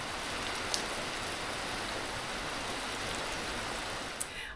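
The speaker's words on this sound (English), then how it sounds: "it's really fantastic that we're getting some rain today" Steady rain falls on a winter's day, a soft, even hiss of drops with a couple of faint clicks and no voices.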